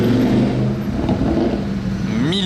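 An Audi RSQ8 tuned beyond 1000 hp revs loudly and continuously nearby, its deep engine tone holding steady before climbing sharply in pitch at the end as it accelerates.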